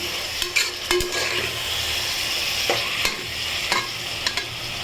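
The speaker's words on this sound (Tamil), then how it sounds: "தக்காளி சேர்த்து நல்லா வதக்கிக்கலாம்" Tomatoes and onions sautéing in a pan for capsicum biryani, with a steady close sizzle broken by sharp spoon scrapes and taps against the pan, no talking.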